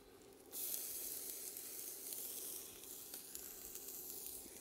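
Bell peppers drop into a pan already searing shallots on high heat, setting off a sudden loud sizzle that holds steady as a close, bright hiss with no talking.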